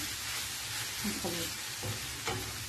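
Vegetable filling for puff pastry turnovers is stirred and fried in a pan, giving a steady close sizzle with soft scraping stirs over it. A few faint vocal sounds surface briefly.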